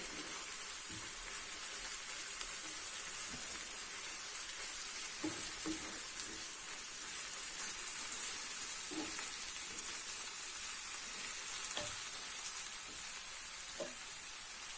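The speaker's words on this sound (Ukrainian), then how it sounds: "перемішуємо. От, щоб воно трішки прожарилося." Hake sizzles and crackles steadily in a hot pan with ketchup, with occasional soft scrapes and clinks of stirring.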